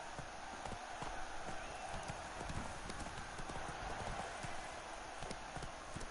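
Roach the horse's hooves clip-clop in a steady trotting rhythm in The Witcher 3 video game, continuous and moderately loud against soft game ambience.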